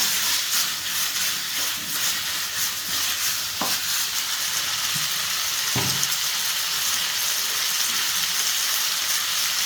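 Onion and tomato sautéing together in a pan with rock salt for a prawn masala: a steady, bright hissing sizzle close by, broken by a couple of sharp spatula taps against the pan.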